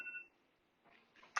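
A kitchen timer gives a single short, faint electronic beep at the very start, followed by quiet room tone and a few soft clicks.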